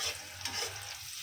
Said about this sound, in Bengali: পেঁয়াজটা বাদামি কালার করে তারপরে সব কিছু দিব।